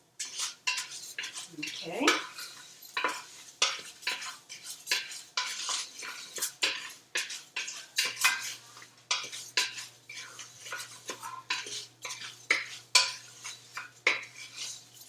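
Risotto rice grains in oil are stirred in a pot, rhythmic repeated scraping and clinking of a utensil against the pot, close and steady, with a brief spoken word.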